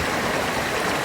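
A big mountain creek flows steadily, a broadband rush of running water filling the whole second, constant and fairly close with no talk over it.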